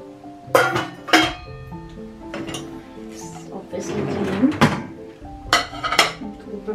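Clean dishes, spoons and a butter knife are handled after a cycle in a Voltas DT8S dishwasher, giving several sharp, close clinks and clatters of utensils with softer rattling between them.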